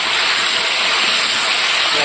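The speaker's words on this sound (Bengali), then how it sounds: "এবার ফুলকপিগুলো ভেজে নেব" Cauliflower florets with turmeric and salt sizzle loudly and steadily in hot oil, a dense close frying hiss with no pauses.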